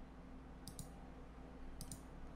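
Mouse clicks on website settings options, two quick pairs of faint, crisp clicks separated by a short pause over a quiet background.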